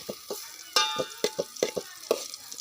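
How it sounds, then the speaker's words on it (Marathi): Onions fry in hot oil for a chicken dish while a metal spoon stirs and knocks rapidly against the pan, giving a quick series of close, bright scrapes over a light sizzle. "तेल टाकलं ना की मग कांदा लगेच लाल होते"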